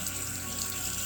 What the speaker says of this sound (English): And you're going to turn on your faucet.